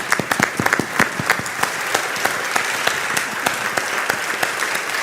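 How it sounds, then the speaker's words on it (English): An audience applauds, with many hands clapping steadily and some louder individual claps popping out in an irregular rhythm. "they deserve a round of applause as well"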